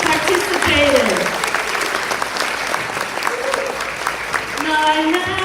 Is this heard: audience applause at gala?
yes